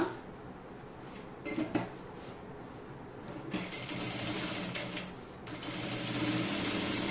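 A sewing machine stitches the hem of a kurti sleeve in short whirring runs broken by brief pauses, then grows louder and steadier in longer continuous stretches, close and alone.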